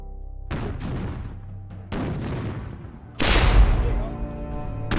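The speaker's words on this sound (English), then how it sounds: "and increases the cannon barrage." Cannon barrage from a Revolutionary War siege reenactment, with three heavy booming blasts spaced about a second apart, the last the loudest, each rolling out into a long rumbling decay.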